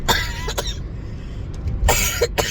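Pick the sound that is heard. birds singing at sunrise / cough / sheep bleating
cough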